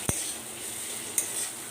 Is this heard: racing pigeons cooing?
no